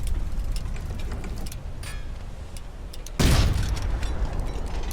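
A submarine deck gun fires in the video game Wolfpack over a steady engine-like rumble, and a loud, sudden blast lands about two-thirds through as the shell hits a ship.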